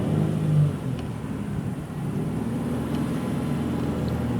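A manual-transmission car pulls away as the clutch is released, its engine droning steadily and building slightly in a continuous, moderately loud low rumble with no voices.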